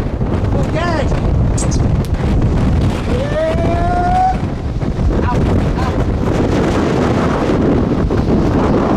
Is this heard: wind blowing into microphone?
yes